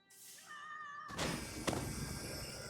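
A cat meowing in the video game Elder Scrolls Online: Elsweyr, a short rising meow followed by a loud burst of noisy game sound.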